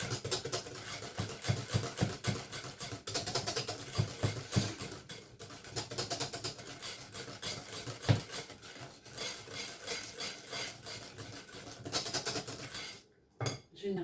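A spoon mixes frangipane galette filling with vanilla sugar in a bowl, with repeated clinks and scrapes of metal on the dish in an uneven rhythm, close and moderate in level, before a brief pause and a few final knocks.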